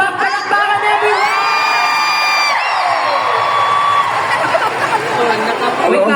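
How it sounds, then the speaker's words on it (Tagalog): A concert crowd at a show erupts in cheering, high-pitched shrieks and whoops with clapping, loud and dense throughout, and voices shouting within the crowd. "palakpakan everyone!"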